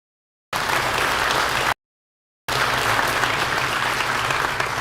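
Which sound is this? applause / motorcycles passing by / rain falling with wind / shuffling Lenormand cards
applause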